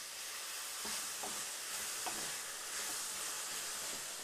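Coleslaw ingredients, shredded cabbage salad, being stirred and mixed, giving a few soft, faint scraping and tossing sounds over a quiet steady hiss, with no one talking.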